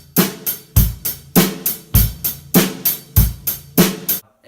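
A basic drum beat plays on a kit: bass drum thumps, snare cracks and hi-hat ticks in a steady, even rhythm, about a dozen evenly spaced strokes, close and loud, no voices.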